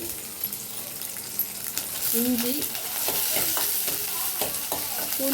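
Garlic and ginger fry in oil in a pan with a close, continuous sizzle. A utensil scrapes and clinks against the pan while stirring, and the frying grows slightly louder partway through.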